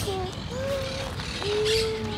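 Birds call outdoors in Barcelona, near a spot where a goose is present, with several clear whistled and cooing notes over a busy background of ambient noise.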